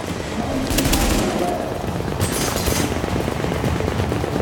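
A deployed automatic turret in The Division fires rapid bursts of gunfire amid a busy firefight, loud sustained rattling with short pauses between volleys.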